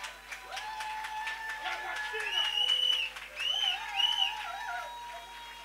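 A church congregation applauds with a burst of clapping, then raised voices cheer and ululate in long wavering tones, filling the room at a moderate distance.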